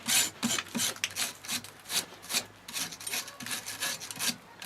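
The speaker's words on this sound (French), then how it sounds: "Alors on gratouille un petit peu tout ça pour y voir plus clair." Old Citroën Traction front axle parts being scraped clean by hand, a series of rhythmic, fairly loud rasping strokes in quick succession with no talk.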